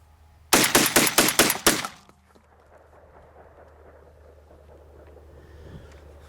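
A Tristar Raptor 12-gauge semi-automatic turkey shotgun fires about six rapid, loud, close blasts in quick succession outdoors, followed by light wind noise and quiet.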